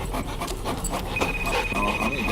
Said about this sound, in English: There's a dog in the table again.